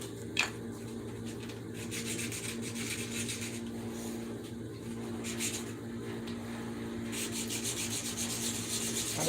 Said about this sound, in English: a scalpel, side cutters, and a 10-inch disc sander.